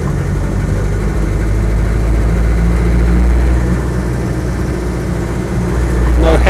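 A Land Rover Defender 90 with the 2.5 diesel engine and soft top pulls away, its steady low engine drone loud and close throughout, with a brief rise near the end.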